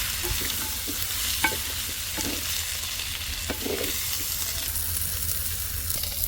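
Chili powder stirred into a curry in a pan, with steady close frying sizzle and repeated scraping strokes of the spoon, no speech.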